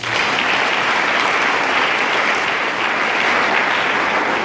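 Sustained applause from a church congregation acclaiming Jesus Christ during a French-language sermon on faith, dense steady clapping filling the hall at a constant loud level throughout.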